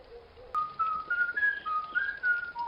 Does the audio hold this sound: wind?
no